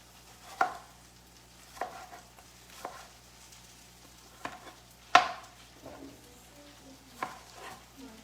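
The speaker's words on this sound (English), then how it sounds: "Let's go ahead and cut our tomatoes." Knife chopping tomatoes for a gluten-free Buddha bowl, with about six sharp, separate cuts spaced roughly a second apart against a quiet room background.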